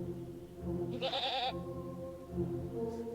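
A sheep bleats once in Orwell's Animal Farm video game: a short, wavering cry over a low, steady game background.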